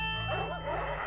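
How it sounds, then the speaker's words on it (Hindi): Dogs bark at night in a residential neighbourhood, a short run of yelping barks heard at moderate volume over a steady background hum. "आज कुत्ते कितने भौंक रहे हैं,"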